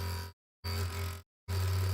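A low, droning computer fan hum cycles on and off in short pulses, fairly quiet and close by.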